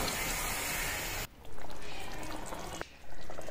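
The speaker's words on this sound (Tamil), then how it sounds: "கொஞ்சமாக புளித்தண்ணி, ஒரு நெல்லிக்காய் சைஸ் புளித்தண்ணி கரைச்சி வச்சு நீங்கள் அதை ஊற்றிக்கலாம்" Tamarind water is poured into biryani while it cooks: a steady liquid hiss and splash that stops briefly twice and then resumes.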